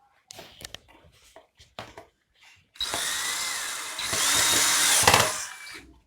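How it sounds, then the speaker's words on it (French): Power drill driving screws at home, a few short clicks and handling knocks first, then a sustained close whine of the motor that rises in loudness before stopping. "Allez, Lilou, tu vas visser"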